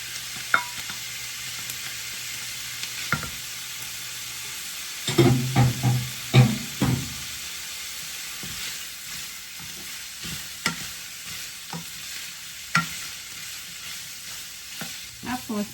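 Chicken pieces fry in a pot for a Filipino creamy soup, making a constant close sizzle with bursts of stirring and spoon scrapes.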